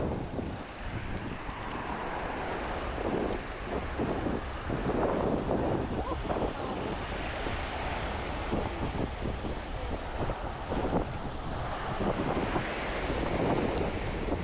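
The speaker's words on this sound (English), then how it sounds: "We're down here on 4x4 Beach" Steady wind and surf roar on a sandy 4x4 beach at Corolla in December, a continuous broadband rush buffeting the microphone for the whole stretch with no pauses.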